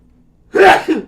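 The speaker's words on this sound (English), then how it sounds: "Oh, I'm going to sneeze." A single abrupt sneeze, a sharp burst of breath and voice, followed by a brief trailing exhale.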